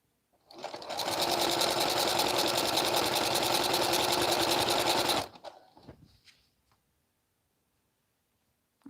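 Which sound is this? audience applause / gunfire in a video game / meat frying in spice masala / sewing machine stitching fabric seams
sewing machine stitching fabric seams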